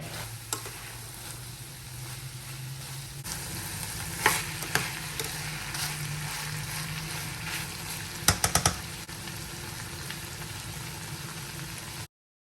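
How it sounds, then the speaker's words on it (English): Coconut rice with fried liver simmers and bubbles in a pot while a spoon stirs and knocks against the side now and then, a close, steady, sizzling hiss with no talking. "Stir everything to combine and allow this to simmer for about 2 minutes."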